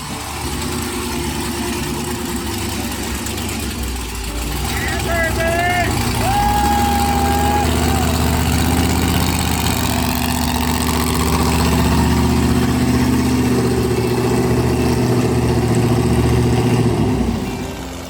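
A lifted Monster Mullet truck's engine runs steadily throughout a ride, a low rumbling drone that swells slightly after the first few seconds, with faint talk and a brief whistle-like tone over it.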